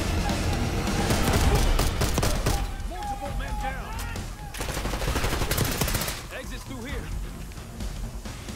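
A light machine gun rattles off dense bursts in Call of Duty Black Ops 6, loud and sustained over the first half, then fading into scattered distant gunfire and game effects.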